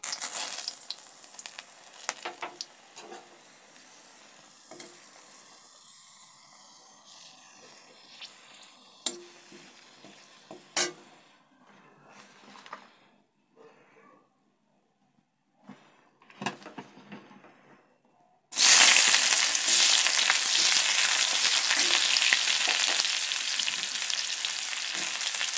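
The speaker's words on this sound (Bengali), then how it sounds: "তেলটা চলে এসছে, এখন সম্বারাটা দিয়ে দিই।" Spice tempering hits hot oil in a home kitchen with a sudden loud, close sizzle that roars on steadily after scattered clinks and small handling noises.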